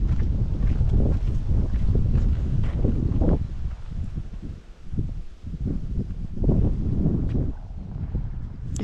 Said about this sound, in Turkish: Bir soğuk rüzgar esiyor bir soğuk.